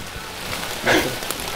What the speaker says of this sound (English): it's also pouring rain